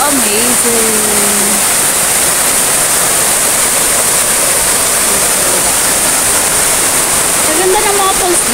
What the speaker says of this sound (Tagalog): Ganda ng mga falls dito talaga.